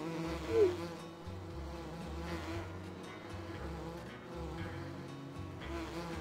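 Bees at a beehive in the farming game Farming Simulator 19 hum in a steady, dense insect buzz that holds even throughout, with a low droning undertone and no speech.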